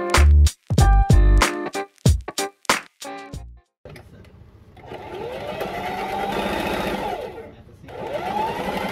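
A sewing machine stitches the seams of a pair of pants, running in a steady, fast mechanical whir over several seconds after a stretch of louder clatter and handling noise at the start.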